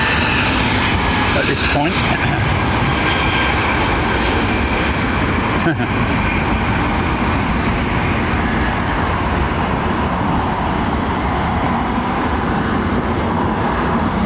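An aircraft rumbles steadily near a runway at London Heathrow Airport, a broad continuous roar heard from about 70 to 80 yards off, with someone speaking briefly over it.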